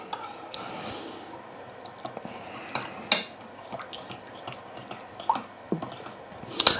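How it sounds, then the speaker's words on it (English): Satay chicken sauce thickened with corn flour being stirred with water, producing soft scraping and irregular clinks of a utensil against the pot, quiet and sparse with a few sharper taps. "we're going to give that a good stir"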